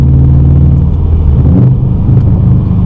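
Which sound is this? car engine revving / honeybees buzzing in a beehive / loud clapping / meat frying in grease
car engine revving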